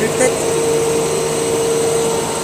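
A Blastrac shot blasting machine prepares a concrete floor ahead of epoxy resin, giving a loud, steady roaring drone with a constant mechanical hum and no breaks.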